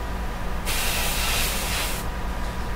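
An airbrush sprays sepia paint on a portrait in one loud, even hiss lasting about a second and a half, with a finger held beneath the nozzle for a softer edge. It starts and stops abruptly against a low background.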